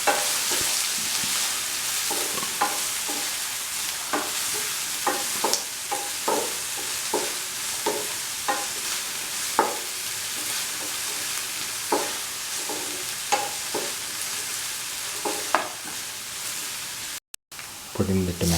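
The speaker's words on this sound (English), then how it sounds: "Salt until the onions are a golden brown." Onions frying with salt in a pan, a constant hissing sizzle broken by repeated stirring scrapes, close and steady, with brief talk over it.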